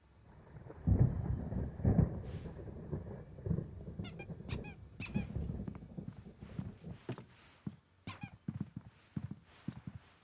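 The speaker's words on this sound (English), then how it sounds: "There's a storm coming. Oh, what a storm." Thunder rolls through a stormy scene in the game Alan Wake, heavy low rumbles swelling early and recurring, mixed with rain, creaks and squeaky clip-clop-like taps.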